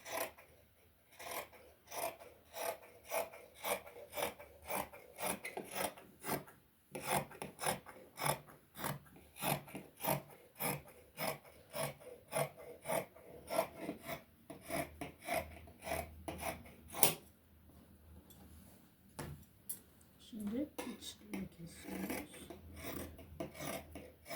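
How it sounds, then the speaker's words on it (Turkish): Scissors snip repeatedly through fabric along a drawn pattern for a nursing pillow, a close, rhythmic series of rasping cuts with a short pause near the end. "Şimdi bunu kesiyorum. Çizdiğim yerden bu şekilde kesiyorum."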